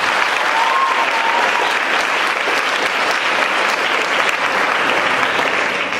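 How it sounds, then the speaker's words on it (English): Loud, sustained applause in a school auditorium for a school concert choir, a thick, even roar of many hands clapping with no break from start to finish. "Big round of applause for our concert choir."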